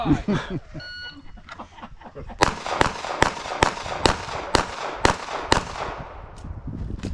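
A competitor fires a rapid string of pistol shots on a USPSA match stage, about a dozen sharp cracks in quick, even succession at moderate distance, with voices at the start.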